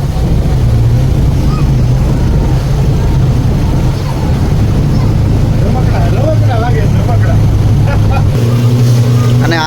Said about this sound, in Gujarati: કેટલી બધી બોટો અત્યારે પાછી આવે છે ને એટલી જ સામે જાય છે.